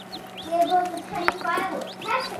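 Guinea fowl keets and Rouen ducklings gathered at a Gatorade-bottle waterer, chirping and peeping in a busy, close, overlapping chorus of short high calls with no talk.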